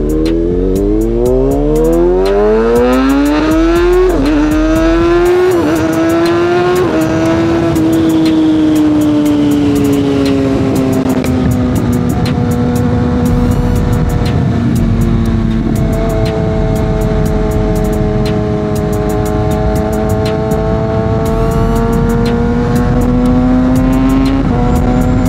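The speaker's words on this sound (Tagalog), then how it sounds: "Tara, i-ride natin tong Kawasaki Z6R natin." A Kawasaki ZX6R sport motorcycle revs up through the gears on a road in the Philippines, its engine whine climbing in pitch and then holding at steady cruising speed under loud wind rush past a carbon helmet.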